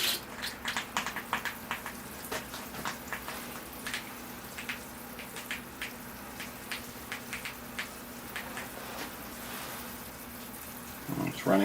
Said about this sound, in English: All right, here I go with the water.